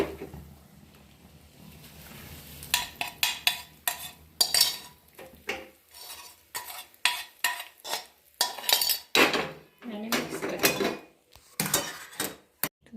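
Metal utensils clink and scrape in a village kitchen as a hot spice tempering is stirred into batter, with scattered sharp knocks and rattles in irregular bursts after a quiet start.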